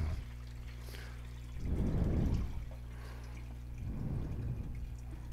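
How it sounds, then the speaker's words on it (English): Water is poured from a pail into a gravity trap in two separate pours, each a close, gushing splash that fades to a trickle, with no talking. "you just take your trusty pail right here, and you just pour your water directly into the gravity trap"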